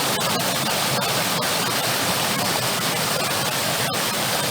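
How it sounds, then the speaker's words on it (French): Small waterfall spilling into a little lake in Andalusia, a steady, loud, broadband rushing of falling water that fills the whole stretch evenly, close by with no voices. "Mini cascade."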